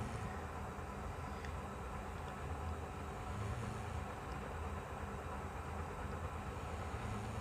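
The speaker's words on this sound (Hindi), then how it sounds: "जोड़ के ऊपर मैं एक किनारे की सिलाई लगा रहा हूँ" A sewing machine runs steadily, stitching an edge seam over a join on a Balochi frock, a quiet, even mechanical hum with no talk.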